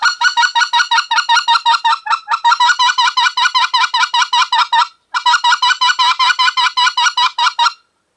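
Rapid series of clucks blown on a white-fronted goose call, sharp and loud, in two long rhythmic runs separated by a brief pause, with no talking.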